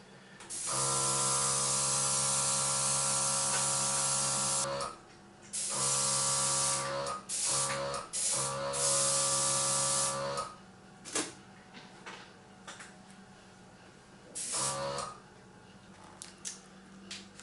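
An aerosol can sprays silver paint onto a Volantex SonikRC Mustang model plane in long, steady hissing bursts, close and loud, breaking into shorter spurts and pauses toward the end.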